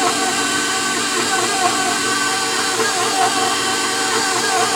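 An electric mixer drones at a steady, loud pitch while working flour into old-fashioned butter pound cake batter, the whir holding even throughout without any talk.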